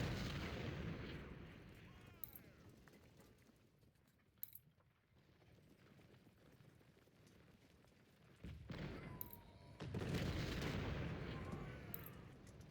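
Civil War artillery cannons firing in the Ultimate General: Civil War strategy game, a fairly quiet mix of muffled booms and rattling battle noise that swells louder near the end.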